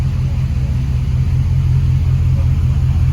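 A car's engine rumbles steadily at idle, loud and close, with a low continuous drone and no break throughout; the steering is rubbing the exhaust manifold.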